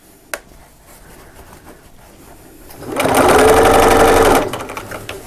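A sewing machine stitches the channel of a drawstring bag, a close, steady whir running for about a second and a half after some quiet fabric handling.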